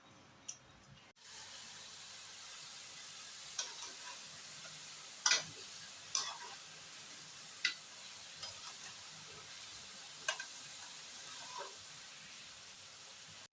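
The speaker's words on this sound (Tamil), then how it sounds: "ஆற வச்சதை இப்போ மறுபடியும் நம்ம எண்ணெயில் போட்டு பொரிச்சிக்கலாம்" Boiled potatoes deep frying in hot oil for a homemade evening snack, giving a faint, even hiss with scattered small pops and crackles throughout, no voices.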